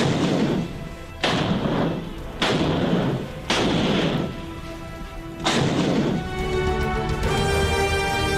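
Heavy artillery and gunfire along the Line of Control, a series of loud, booming blasts about a second apart, each with a long rumbling decay, followed by a sustained roar at the end.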